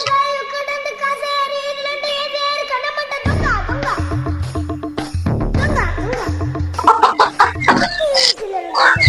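Chickens cluck and call close by in a busy, uneven jumble, following a sustained tonal sound at the start, with voices mixed in.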